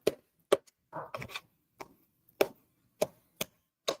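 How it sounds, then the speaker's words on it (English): Avocado chopped into chunks on a cutting board for guacamole, a series of sharp knife knocks at an uneven pace, close and distinct, with a short stretch of soft handling noise between strikes. "And we'll come back and chop it up more in a little bit."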